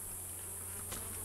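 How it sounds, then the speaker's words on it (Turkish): A yellowjacket wasp buzzes among honeybees gathering nectar on an oak tree, a steady close insect drone with a faint high whine and a brief louder pass near the end. "bak bir sarıcı arı geldi şimdi"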